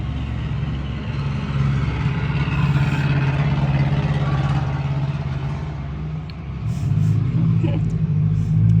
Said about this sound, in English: That car that drove by sounds like a helicopter.